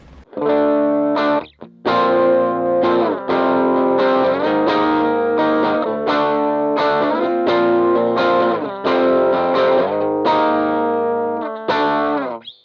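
Distorted electric guitar playing a run of chords and notes through a Lekato Tank G amp modeler, thick and saturated, with short gaps between phrases.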